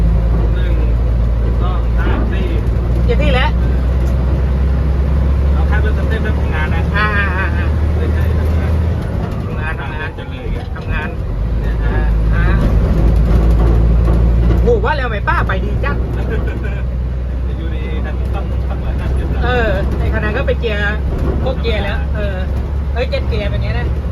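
A Nissan UD truck, just refitted with a seven-gear transmission, runs with its engine loud and revving high. The deep, steady drone continues throughout, with voices talking over it.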